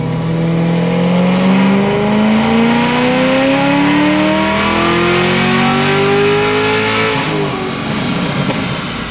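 A high-mileage car pulling at full throttle, its engine note climbing steadily and loudly for several seconds before easing off near the end, heard up close without voices.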